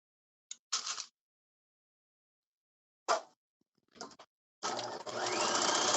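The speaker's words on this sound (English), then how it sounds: "So once we finish stitching this strap, we will switch over to my prepared strap." Sewing machine stitching a leather satchel strap, a couple of short bursts of whirring stitches followed by a longer continuous run near the end, close and clear with silence between.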